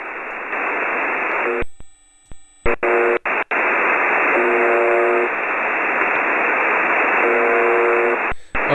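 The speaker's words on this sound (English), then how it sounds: "This is what the Russian buzzer is supposed to sound like." Signal of the Russian shortwave Buzzer station: loud, steady radio static with repeated short buzzing tone bursts and a few abrupt dropouts and clicks early on.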